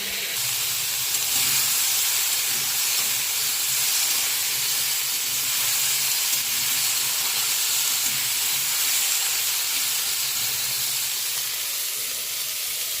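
Vegetables fry in hot oil in a pan, spiced with turmeric, cumin and coriander powder and cooked without garlic, giving a steady, even sizzle and hiss nearby that runs unbroken with no talking.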